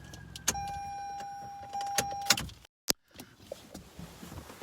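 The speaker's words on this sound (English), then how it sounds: "I'm going to turn off my car here." A car is switched off nearby: a steady idle with chime tones and a few clicks and thumps, then the hum cuts to near silence, followed by a sharp click and soft rustling.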